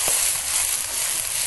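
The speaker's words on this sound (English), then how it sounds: "And our shrimp, not quite done. It's going to take a few minutes for them to stir fry." Shrimp stir frying in a pan, a steady close crackling sizzle with small pops throughout.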